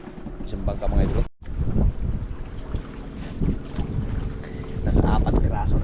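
A small fishing boat out at sea, its motor running as a steady low rumble under gusting wind noise, with a brief dropout partway through and faint voices.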